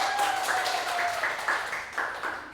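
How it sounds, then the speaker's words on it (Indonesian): A group claps hands in a steady rhythm during a classroom microteaching session, with about two beats per second and a faint thin tone above. "tepuk tangan, tepuk tangan."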